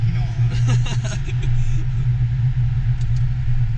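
Loud, steady low engine drone from a Volkswagen Golf GTI Clubsport, idling or cruising nearby with a deep rumble throughout, with a brief burst of faint voices and movement early on.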